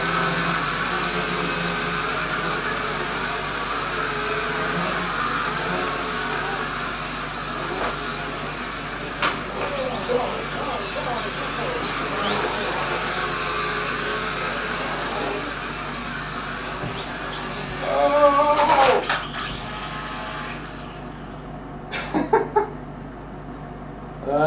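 Buzzing motors of a Harbor Freight hand-controlled drone whine steadily and fairly close, wavering in pitch, with a few louder rattling bursts before the sound drops away near the end.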